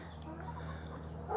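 Chickens cluck faintly inside a chicken house, a low, steady murmur of fowl with no voices over it.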